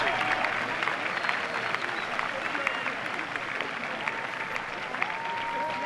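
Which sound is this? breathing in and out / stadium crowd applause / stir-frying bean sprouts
stadium crowd applause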